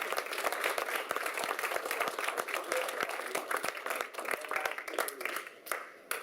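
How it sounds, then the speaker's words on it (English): Audience applause in an indoor hall at a launch ceremony, a dense, steady wash of many hands clapping throughout, fairly loud and close, with no talk over it. "can we have a round of applause for Ms. Chagger?"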